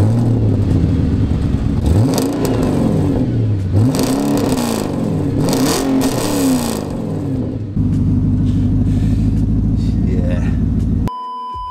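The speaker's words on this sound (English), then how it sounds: "you've got an engine start stop button down here. Press start, and this is what it sounds like." An Audi RS4 engine fires up by push button and revs, rising and falling in pitch several times before settling into a steady idle, loud and close.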